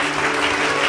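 Sustained, dense clapping from a church congregation during a sermon, steady and fairly loud throughout with a faint murmur of voices underneath.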